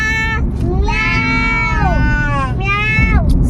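A child imitates a cat, making a few drawn-out, wavering meows close by, with short pauses between them, over steady background rumble.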